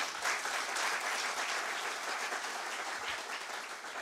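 Applause from an audience at a seminar on Turkey's personal data protection law in digital transformation, a full, continuous burst of many hands clapping at an even loudness throughout.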